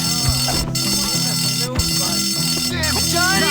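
A fire alarm in the video game Bully rings as a steady, loud electronic tone under game music, with character voices shouting over it.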